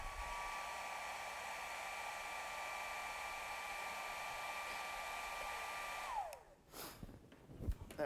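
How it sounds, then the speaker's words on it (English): A hair dryer blows steadily close by, drying paint on a wood carving, with a constant whooshing hiss that winds down after about six seconds, followed by faint handling noises. "now I'm going to dry this just with the hair dryer to make it quick."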